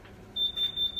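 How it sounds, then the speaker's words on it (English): A fan oven gives an electronic beep, a steady high tone repeating in a few pulses at moderate loudness in a quiet kitchen, with no talking. "That's the oven beeping."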